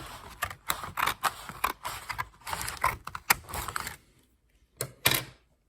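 Scissors snip through paper for a paper cosplay piece, giving a quick series of sharp, close crisp cuts in an irregular rhythm, a short pause, then two more snips.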